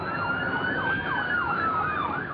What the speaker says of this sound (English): they heard the wail of police sirens and saw flashing police lights